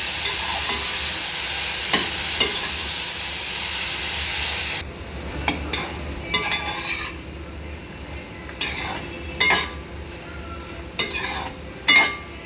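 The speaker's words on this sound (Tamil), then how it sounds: "இப்போ இது எல்லாத்தையுமே நல்லா ஃப்ரை பண்ணிக்கலாம்" Chopped tomatoes and onions fry in a pan for a mint and coriander tomato chutney, a steady loud sizzle that drops away midway, followed by scattered stirring scrapes and clinks of a utensil against the pan.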